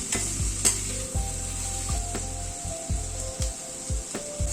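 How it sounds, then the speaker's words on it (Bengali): Kidney beans fry with spices and tomato in a pan, a steady sizzle under repeated scraping stirs and knocks of a utensil, close and continuous with no talking. "রাজমাটা মশলার সাথে একটু কষিয়ে নিচ্ছি"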